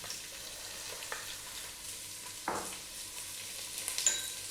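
Chopped onion hits hot oil over a strong flame for chicken feet adobo, giving a faint, steady sizzle punctuated by a few brief stirring scrapes and spatters, with no voices.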